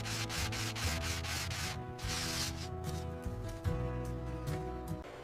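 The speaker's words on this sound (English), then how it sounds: "Fine sanding gives the bat its signature smooth finish." Fine sanding of a wooden cricket bat gives a close, continuous rasping rub in repeated back-and-forth strokes, fairly even in loudness, with no voices.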